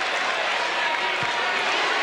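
A packed arena crowd at a 1994-95 Iowa State versus Evansville college basketball game roars in a sustained, loud wash of cheering, with voices blended into the din.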